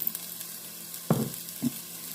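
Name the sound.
onion and pink salt frying in olive oil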